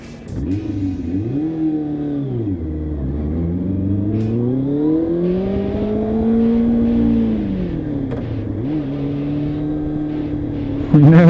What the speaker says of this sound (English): Nearly my engine cut out actually there. I was just kind of a bit giving it a gas and I was in the gears and it just nearly stopped on me.